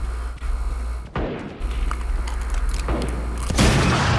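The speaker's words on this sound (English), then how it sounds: "somebody just shot a damn RPG off" An RPG rocket goes off in Valorant with a heavy boom and a loud, dense burst of blast noise, followed by a sustained rumble and a second surge near the end.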